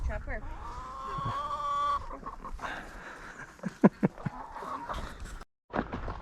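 Farm chickens cluck and call in short bursts across the scene while a person talks nearby, with a brief drop to silence near the end.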